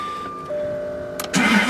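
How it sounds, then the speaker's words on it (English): A 1999 Jaguar XK8 convertible engine starts, with a brief tone and starter crank followed by the engine catching and firing up loudly in the last moment, no talk. "Car fires right up, nice."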